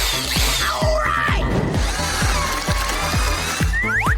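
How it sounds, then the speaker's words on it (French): A power drill cuts a hole in a chocolate egg, a loud whirring buzz with repeated rhythmic grinding pulses and shifting whine. "Je vais le faire avec une perceuse."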